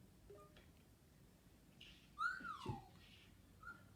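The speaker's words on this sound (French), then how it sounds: "Pourquoi tu siffles comme ça?" A person whistles a short, rising-and-falling tune in the middle of the clip, fairly quiet against a faint background hiss, with a brief second whistle near the end.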